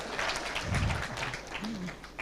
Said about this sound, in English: And God's people clapped for that.